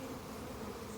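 Honey bees swarm during a spring hive installation, giving a steady, continuous buzz that stays close and even throughout, with no voices.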